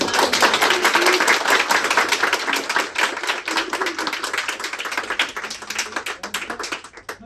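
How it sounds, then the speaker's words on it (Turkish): An audience claps in a burst of applause at a festival event, many hands beating densely and loudly, then thinning and tapering toward the end. "Alkışlıyoruz"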